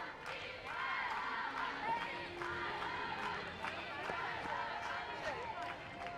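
Supporters of the Metro Stroy team cheer and chant for CSP Izmaylovo at a live field hockey match against Leicester HC. A sustained, tonal crowd chant carries on at a steady level throughout, with voices mixed in.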